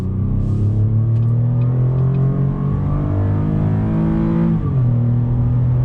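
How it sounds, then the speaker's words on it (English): A 2021 Chevrolet ZR2 Bison off-road pickup with a GM Performance exhaust revs hard, holding a deep, loud, rumbling engine note that climbs and then drops sharply before settling back to a throaty idle, close to the microphone. "You got the GM Performance exhaust. Let's go ahead on throttle."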